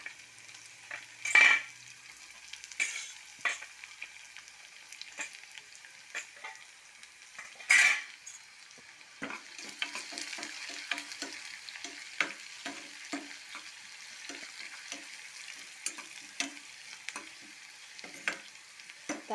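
Garlic fries in a pan for tomato chutney, with two loud metallic knocks early on and then a soft, continuous crackling sizzle broken by light scraping stirs. No one speaks.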